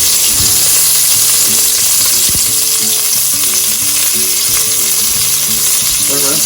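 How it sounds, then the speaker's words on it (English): Onion and garlic hit a hot pot and sizzle loudly and steadily, a dense continuous frying hiss with some stirring and clatter and no talking. "Grab the onion and the garlic and throw it on in there."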